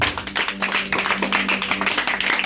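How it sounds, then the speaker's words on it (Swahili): A church congregation claps hands for Jesus in a steady, fast rhythm, many hands striking together in quick repeated bursts over a faint hum, with no talking. "Piga Yesu makofi basi."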